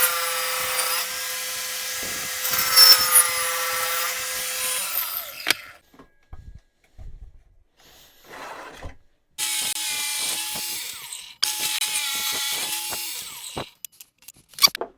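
A power saw cuts the main shapes from a wood block with a loud, close whine and rasp. Two long cuts are separated by a quieter stretch of scattered knocks and handling sounds, and the last cut ends abruptly.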